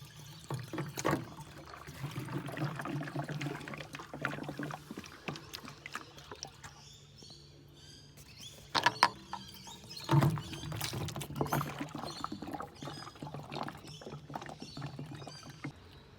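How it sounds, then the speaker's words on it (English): Filtered water is poured into a car's cooling system, giving an intermittent gurgling trickle and splashing that rises and falls, with occasional knocks of handling close by. "And then I'm filling it up with filtered water."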